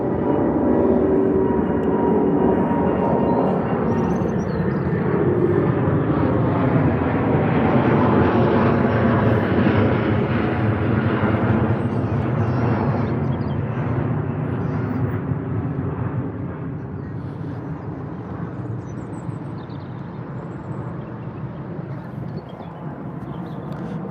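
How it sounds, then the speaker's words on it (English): A Virgin Atlantic Airbus A330-900 taking off at London Heathrow, a loud sustained jet engine roar with a shifting whine that slowly fades as the aircraft climbs away. "up first is the Virgin Atlantic off to Boston in the United States with the A330-900"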